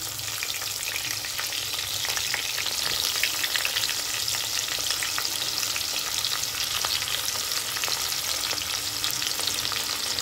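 Chopped onion frying in oil with cardamom in a pan while being stirred for mutton kassa, a steady dense sizzle with faint scraping strokes, close and continuous, no talking.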